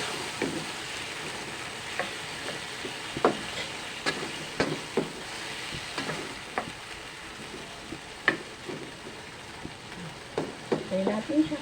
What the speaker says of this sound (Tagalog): Kaya natin siya kumulo dyan.